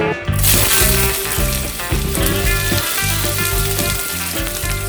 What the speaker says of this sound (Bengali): এবারে তেলের মধ্যে আমরা যোগ করব হচ্ছে কুচনো আদা, রসুন, পেঁয়াজ আর কাঁচা লঙ্কা।